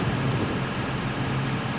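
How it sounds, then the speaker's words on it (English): Steady, loud rain pours throughout a Seattle scene in an 18-wheeler trucking video game, a continuous even hiss with no talking. "the rain is because Seattle"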